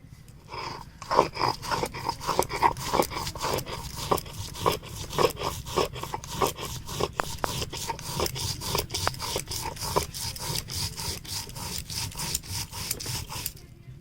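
Whole cumin and poppy seeds are ground together into a smooth paste on a grinding stone, giving a steady series of close rhythmic scraping and rubbing strokes that continue throughout.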